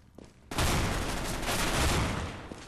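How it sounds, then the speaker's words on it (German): Sustained, dense burst of loud shotgun fire in Counter-Strike: Global Offensive, starting after a brief quiet moment and continuing without pause, harsh and close. "Boah! Schrotflinte!"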